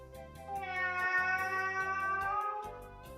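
During a guessing game, a voice imitates a cat with one long, drawn-out meow that rises and falls, fairly close and clear against a quiet background.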